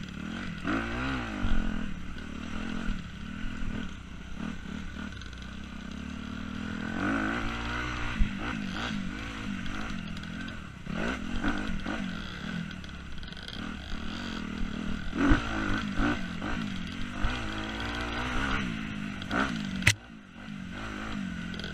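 An off-road motocross motorcycle picks its way through tight, slow corners on a race track, the engine rising and falling in short bursts as the clutch is feathered, with occasional clatter and a sharp knock near the end.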